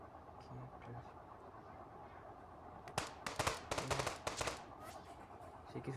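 Video game gunfire in Los Angeles Crimes rattles out in a quick burst of rapid shots midway through, fairly faint, over low background game noise and a quiet voice.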